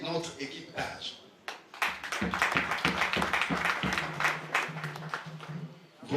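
An assembly audience at a general meeting of a club claps in a burst of applause, dense rapid hand claps from a sizeable crowd, fairly close, with some voices mixed in.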